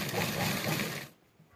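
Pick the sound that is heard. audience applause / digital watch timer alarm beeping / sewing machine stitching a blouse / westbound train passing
sewing machine stitching a blouse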